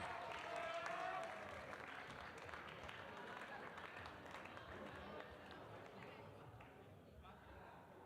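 Audience applause at the medal ceremony of a European Youth Cup bouldering final in Graz, a steady crowd clapping that fades slowly, with the announcer's voice and chatter over it.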